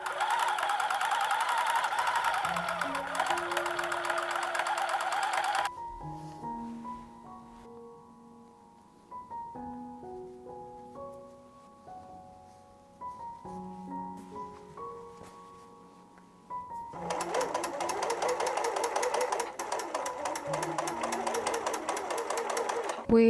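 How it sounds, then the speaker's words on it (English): Household sewing machine running bursts of stitching on a pocket facing of shorts, a fast whirring hum that starts, stops for a stretch with music playing, then resumes loudly. "I am now going to understitch the facing to the seam allowance, and then afterwards do a top stitch on top here"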